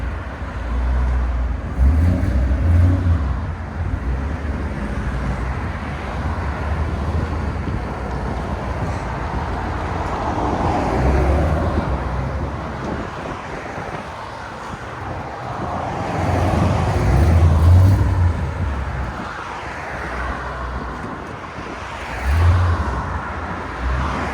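A 6-speed manual Mustang GT California Special runs outdoors, its engine and exhaust giving a deep low rumble that swells in throaty surges several times, close and loud with no talk.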